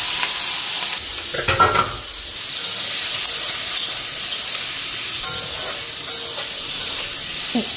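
Food frying in a pan in a home kitchen, a loud, constant hissing sizzle dominating throughout with occasional clinks and stirring movements.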